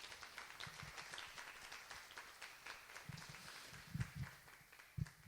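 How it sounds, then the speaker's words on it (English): Scattered, fairly faint clapping from an audience thanking a business panel on small and medium enterprises, with a few louder claps standing out toward the end. "Please give them a round of applause."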